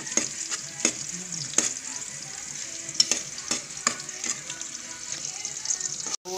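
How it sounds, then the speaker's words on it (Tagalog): Garlic sautéing in a pan while being stirred, a soft continuous sizzle with repeated spoon taps and scrapes at an uneven rhythm, close and fairly quiet, ending with a sharp knock. "haluin natin ating bawang. Papupulahin natin ang bagya."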